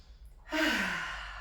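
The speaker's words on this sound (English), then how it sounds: "take a nice breath" A single deep inhaled breath, soft and close, starting after a short quiet pause and trailing off slowly during a calm grounding exercise.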